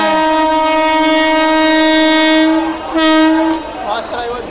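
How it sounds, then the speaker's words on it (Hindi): Ajmer–Jammu Tawi express hauled by a WAP-7 electric locomotive pulls into Delhi Cantt railway station, sounding a loud, sustained horn blast followed by a second short blast over the rumble of the train. "अजमेर जम्मू तवी, फास्ट अराइवल ले रही है दिल्ली कैंट रेलवे स्टेशन पे।"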